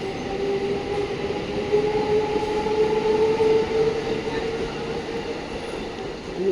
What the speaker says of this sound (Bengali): এটা সোদপুর স্টেশন।